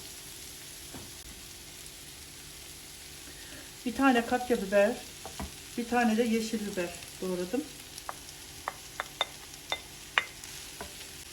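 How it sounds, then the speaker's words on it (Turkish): Vegetables sizzle and crackle in a hot pan as a person speaks over them, followed by scattered sharp pops and stirring clicks. "Böyle kavuracağız bunu."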